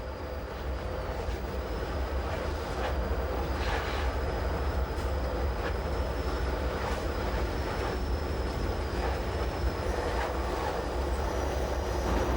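A restored TEE train rolls along the rails on the Swiss Gotthard line with a steady rumble and faint rhythmic wheel clatter, a high squeal running through it.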